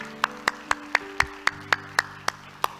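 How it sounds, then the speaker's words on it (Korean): A church congregation claps together in a slow, steady rhythm of about ten sharp beats, over a low sustained organ or keyboard tone in the background. "우리 하나님께 영광의 박수합시다."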